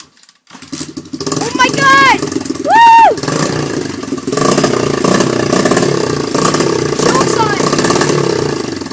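After a motor swap, an engine cranks and catches, then idles roughly and revs in loud bursts, clattering up close while people cheer and shout excitedly over it.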